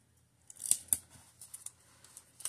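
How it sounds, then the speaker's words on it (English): Adhesive tape being pulled and pressed onto a notebook page to fix it down, a series of crisp tearing and crackling bursts, close and moderately loud, irregular with short gaps and no talking. "And I'm gonna start taping down."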